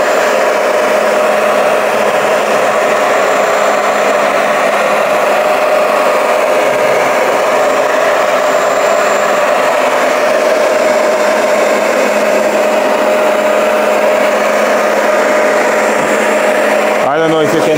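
Steady, loud motor drone and suction whine from a Bissell Power Clean Max carpet shampooer working over a rug, continuous and close, ending with a brief clatter near the end.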